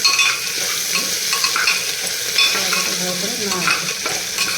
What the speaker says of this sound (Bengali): আমি ভালো করে আদাটাকে যাতে কাঁচা গন্ধটা না থাকে সেই জন্য ভালো করে আমি নেড়ে নিচ্ছি।